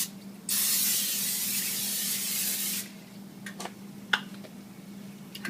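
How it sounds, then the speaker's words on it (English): Cooking spray hisses onto a baking pan in one steady burst lasting a couple of seconds, close and loud, followed by a few light clicks and taps over a low hum. "I'm going to use some cooking spray."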